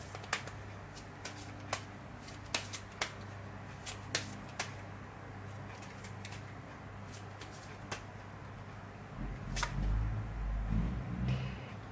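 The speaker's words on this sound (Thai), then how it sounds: "ขออนุญาตจัดไพ่" Tarot cards being shuffled and laid out by hand, with soft papery riffles and a string of small sharp card taps, faint and close, with a little background rustle.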